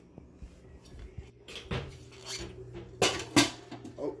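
Pots and pans clank and clatter close by while someone rummages through cookware for a rice cooker lid, a few sharp metallic knocks rising above softer scraping.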